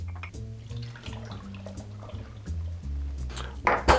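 One ounce of white rum is poured for a Grinch cocktail, a close, gurgling liquid pour with bubbly glugs over about four seconds, ending in a brief louder splash.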